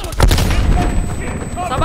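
A grenade blast and gunfire in the video game Call of Duty: Black Ops Cold War, with loud, close booming bursts and sharp reports packed into under two seconds.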